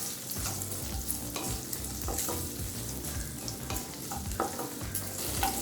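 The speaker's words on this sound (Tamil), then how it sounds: "இப்போ சின்ன வெங்காயம் நல்லா வதங்கிடுச்சு." Small shallots frying in oil in a pan for sundakkai puli kulambu, a dense continuous sizzle with scattered spatula scrapes and stirring knocks throughout, close and steady.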